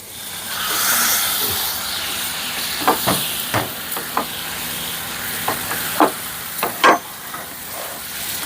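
Chicken stir-fried in a pan for chicken thoran hisses and sizzles strongly at first, then settles under a series of sharp spatula clacks and scrapes.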